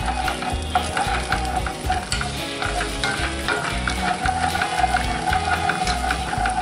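Scrambled eggs are stirred in a pan over medium heat, a continuous close sizzle with rhythmic scraping and clacking of the utensil against the pan.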